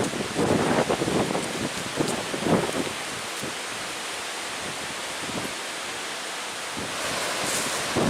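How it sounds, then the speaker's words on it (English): Strong wind roars steadily across an exposed hiking trail at Pictured Rocks, Michigan, with heavy buffeting gusts striking the microphone early on and a broad rushing hiss sustained throughout, loud and close, with no talking. "it is windy out there"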